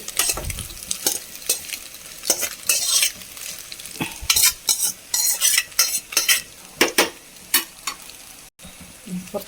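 Matta rice stirred with prawn masala and curry leaves in a pan, a close run of repeated clattering scrapes and knocks of a spoon against the pan over a faint sizzle, with no talking.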